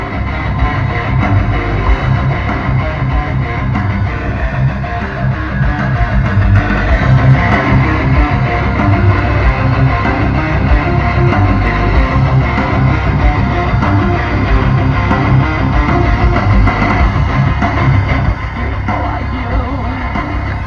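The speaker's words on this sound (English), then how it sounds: "You play Swedish metal, of course." Swedish metal music plays loud and dense through the audio system of a Volvo XC90 SUV, a steady wall of heavy, driving sound filling the cabin for the full stretch without pause.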